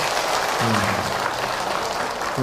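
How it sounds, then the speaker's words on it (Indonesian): Audience applause at an Islamic religious lecture, a steady wash of clapping that fills the whole clip, with a voice briefly heard over it. "Tepuk tangan buat bunda yang nakal."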